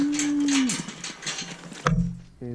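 Cattle being drafted on a farm moo loudly and close by, one long low call followed by further bellows and yard clatter.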